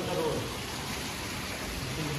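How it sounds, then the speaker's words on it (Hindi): Heavy rain pours down steadily outdoors, a dense, close, continuous hiss of falling water with no pauses. "देखियो कितनी तेज बारिश पड़ रही है"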